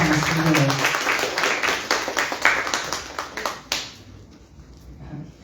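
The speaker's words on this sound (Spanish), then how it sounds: "Y les quiero pedir un fuerte aplauso para todos mis compañeros que están aquí" Audience applause at a book presentation during a festival in Guadalajara, a dense wash of clapping that fades after a few seconds into a quieter room.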